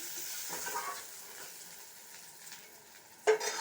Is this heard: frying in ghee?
yes